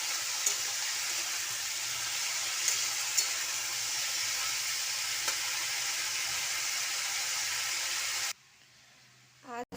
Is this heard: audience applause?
no